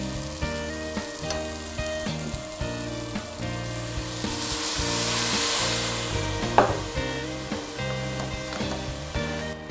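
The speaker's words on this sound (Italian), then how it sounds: "filo d'olio e facciamo intenerire la cipolla" Onion and rice sizzle softly in olive oil for a zucchini risotto, a gentle crackling hiss under steady melodic background music, with a single sharper clink near the middle.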